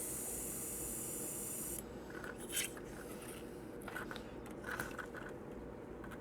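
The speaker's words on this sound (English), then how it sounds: "I'm actually just spraying it through, and we're going to flush some clean water through until she's empty" An airbrush sprays clean water through to flush itself out while cleaned with the needle removed, giving a steady airy hiss with a brief louder burst at the start and small spitting variations, alone and close.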